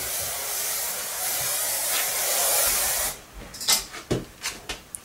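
Hairspray sprays onto curled hair in a long, continuous hiss lasting about three seconds, followed by a few short handling knocks and taps.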